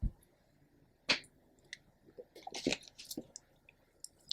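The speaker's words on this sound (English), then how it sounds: "Let me drink some water real quick." Someone drinks water close to the microphone, with wet sips, clicks and swallowing noises scattered irregularly through a quiet background.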